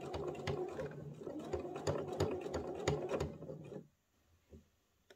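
A sewing machine stitches fabric slowly, point by point, with a close rhythmic mechanical clatter lasting several seconds before stopping abruptly, followed by a couple of faint handling knocks.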